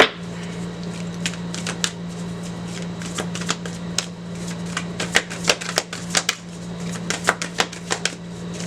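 Tarot cards are shuffled and drawn in quick bursts of crisp riffling and snapping, close and clear, over a steady low hum.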